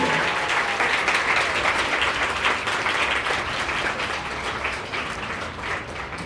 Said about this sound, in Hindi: आप लोग खड़े होकर एक गड़गड़ाहट, तालियों की गड़गड़ाहट में आप उनका शुक्रिया अदा करिए